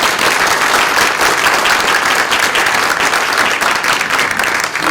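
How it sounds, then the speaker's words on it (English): A town hall audience on commercial property valuation claps in loud, sustained applause, a dense unbroken patter of many hands filling the room from start to finish. "give them a round of applause"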